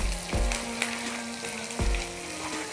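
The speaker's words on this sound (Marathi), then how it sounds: "आपला मसाला वाटण केलेलं आहे ना ते भाजेल." Ground masala paste frying in oil for misal, a dense close sizzle and crackle with a couple of sharp knocks of a utensil against the pan, no one speaking.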